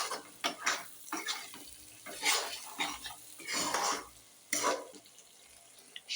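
A spoon stirs garam masala into chicken masala in a metal pan, giving intermittent scraping and clinking strokes with short pauses between them, close and moderately quiet, with no talking.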